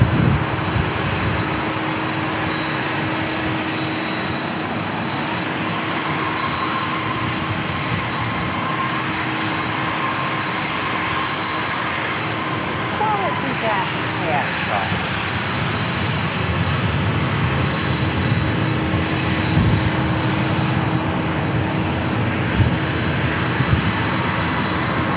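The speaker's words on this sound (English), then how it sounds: "Southwest 737 going up the coast." A Southwest Airlines Boeing 737 jet climbs out from San Diego International Airport, a steady loud engine roar sustained throughout with a broad rushing texture and a faint whine, no talking.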